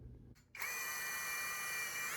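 A power drill bores holes in a wall for Allen + Roth blackout cellular shade brackets, a brief quiet whir followed by a loud, steady high-pitched spin close by, with no one talking.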